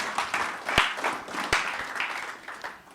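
A church congregation claps in a steady mass of applause, with a few sharp louder claps standing out near the front, filling the short moment without talk.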